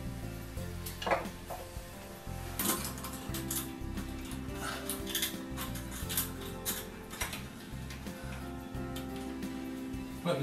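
A metal light fixture bracket is handled and mounted overhead, with repeated clanks, rattles and scraping metal clicks over a low hum, close and uneven throughout with no talking.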